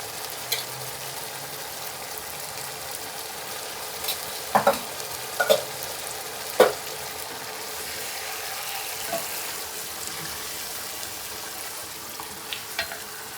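Yogurt being stirred into sizzling Singapore biryani masala in a pot: a soft, steady frying hiss with a few scattered scraping and clinking stirs, fairly quiet.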